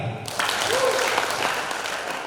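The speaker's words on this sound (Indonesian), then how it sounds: "Tepuk tangan." An audience applauds at a government outreach event on illegal cigarettes and excise rules. Dense, steady clapping from a crowd starts abruptly and continues loudly to the end.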